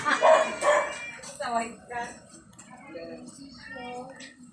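A guard dog yelps and barks in a series of short, high, whiny bursts, close by, easing into softer whimpering cries toward the end.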